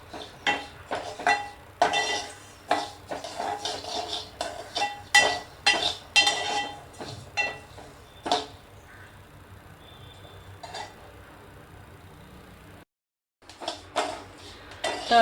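Homemade weight-loss powder ingredients are dry-roasted in a pan at home, with a busy stream of close metallic scrapes and clinks from the spoon stirring against the pan, tapering off into a quieter stretch and a brief silence.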